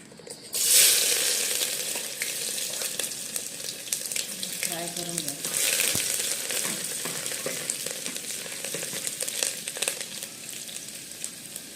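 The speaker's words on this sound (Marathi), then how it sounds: "कुकरमध्ये तेल टाकायला ठेवले आता आपण फोडणी देऊया" Garlic, cumin and mustard seeds temper in hot oil in a pressure cooker. A sudden loud sizzle bursts in and then keeps crackling and hissing steadily in the foreground.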